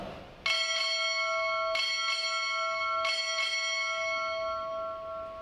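A ship's bell rings six times in three evenly spaced pairs at an indoor naval ROTC graduation ceremony. Each strike is a clear metallic clang that lingers and rings out between blows, with no talking.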